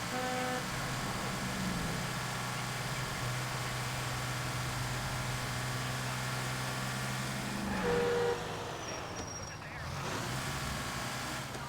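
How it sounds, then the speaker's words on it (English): A loud, steady truck engine drones throughout in the game L.A. Noire, with a brief shift in tone near the end and occasional voices in the background. "I feel like this truck is just really loud."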